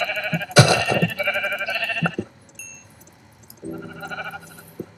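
Sheep in the video game Minecraft bleat twice nearby, loud wavering cries with a pause between them, set against quiet game ambience.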